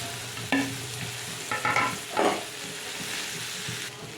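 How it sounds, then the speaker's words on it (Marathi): Cut okra frying in a pan gives a soft background sizzle, broken by a few distinct scraping and clinking strokes as it is stirred, fairly close and moderately quiet. "आपली भेंडी जी आहे ना कापलेली त्याच्यामध्ये टाकून घेऊया अशा प्रकारे आणि छान याला आपण मिक्स करून घेऊया"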